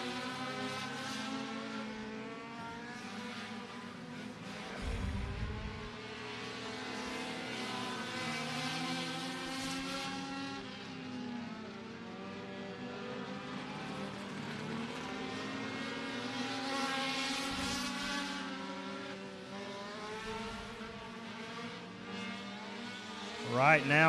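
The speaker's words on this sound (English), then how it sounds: "Coming around to the green flag here for the 13 car of Porter." Race cars at Beckley Motorsports Park in Mount Hope, West Virginia, roar around the oval toward the green flag, their engines a loud sustained drone that swells and fades as they pass, with an announcer talking over them.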